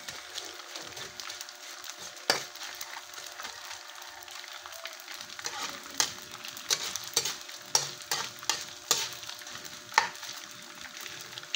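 Soft sizzling of leftover cooked rice frying in oil, with sharp scraping stir strokes and clinks against the pan at irregular intervals.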